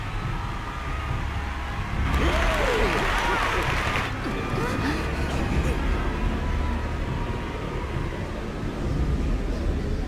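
A crowd in Final Fantasy XIV: Dawntrail cheers with a broad, steady roar that rises sharply for a couple of seconds, over constant background game noise and music, with voices talking.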